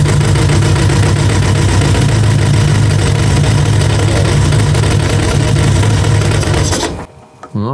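Münch Mammut 1200 TTS motorcycle engine running loud and close, a dense continuous roar with a low throbbing pulse, ending abruptly as it cuts off near the end.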